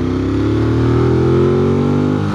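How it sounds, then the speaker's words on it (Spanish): A Ducati Monster 821 motorcycle with its original exhaust revs loud and close, a continuous rising engine note that builds and holds steadily without talk. "¿A poco no suena hermoso, señores? Suena como agresivo, suena como realmente como se ve esta moto"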